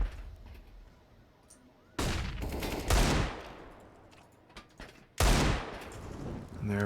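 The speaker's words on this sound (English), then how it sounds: "And there we go, some deagles here from Kel." Desert Eagle pistol shots in a Counter-Strike match on the Vertigo map, several sharp loud cracks spaced a second or more apart, each with a short ringing tail, over quiet game ambience and faint commentary.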